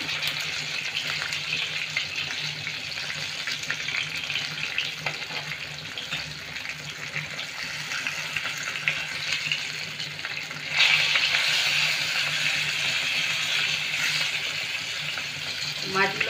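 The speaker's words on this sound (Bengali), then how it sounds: "এই যে একটু কড়া করে ভেজে নিয়েছি মাছগুলো" Rohu fish pieces frying crisp in oil, with a continuous hissing sizzle that swells louder partway through and carries on close and steady, and no speech.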